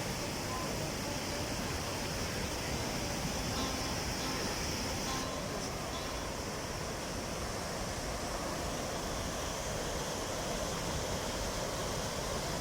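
Steady, dense roar of rushing water filling the whole clip, broadband and constant, from Gürpınar Waterfall in Malatya, Turkey, heard up close, with faint voices now and then.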